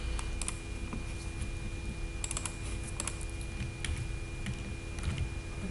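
Someone types keyboard shortcuts on a computer keyboard, giving scattered sharp key clicks over a steady, faint background hum with no talk.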